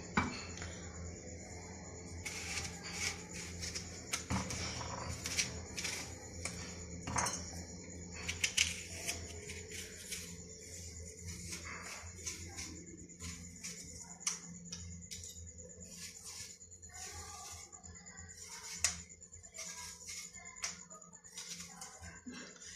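An apple being cut with a knife in a home kitchen, heard as scattered clinks and taps of metal on a plate or board with faint slicing scrapes, steady and close.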